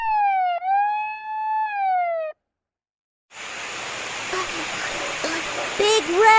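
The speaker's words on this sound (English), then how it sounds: "Lil Red turns on his siren, but it sounds so weak." A cartoon fire truck's feeble siren wails briefly with a thin, wavering tone, then cuts to silence before narration and music take over.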